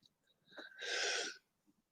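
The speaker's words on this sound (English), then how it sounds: "I got to sneeze. I feel it." A single sharp sneeze from a race commentator bursts out close to the mic after a brief intake of breath, loud against otherwise near-silent surroundings.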